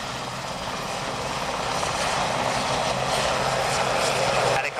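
Military helicopters at an air day commando assault display lift into forward flight, a loud, continuous broadband rotor and engine roar that stays steady and builds slightly toward the end.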